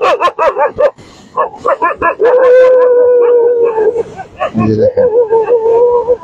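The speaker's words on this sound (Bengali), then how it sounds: "এই কুকুরদের তাড়া করছে।" Dogs on Cox's Bazar beach howl in long wavering cries mixed with sharp barks and yips, close and loud, while someone talks briefly over them.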